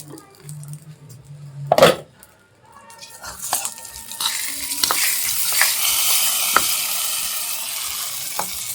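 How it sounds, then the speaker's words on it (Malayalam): Mustard seeds, curry leaves and two or three dried chilies hit hot coconut oil with a loud clatter, then crackle and sizzle steadily, with small pops and light scraping of a spoon in the pan. "അതിലേക്ക് കുറച്ച് വെളിച്ചെണ്ണയും കടുകും കരിയാമ്പലിയും ഉണക്ക് പറങ്കി 2-3 ഇട്ട് കൊടുത്തിട്ടുണ്ട്"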